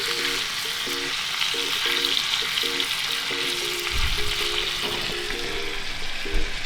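Steak sizzles and fries steadily in a cast iron skillet, a dense continuous crackle with a few soft bumps and knocks, no talking.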